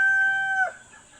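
Newly arrived broiler chicks, a single clear high, steady peep lasting about half a second that then drops away into quiet background.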